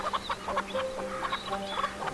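Pet chickens on a backyard farm clucking while drinking, a close run of short, busy clucks and soft squawks from a few birds over a low steady hum.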